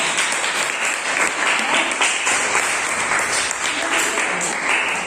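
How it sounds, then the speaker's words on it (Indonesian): Students in an Indonesian language classroom applaud a presenting group, a dense, even wash of many hands clapping at once, loud and sustained with no talk over it. "Tepuk tangan untuk kelompok 3."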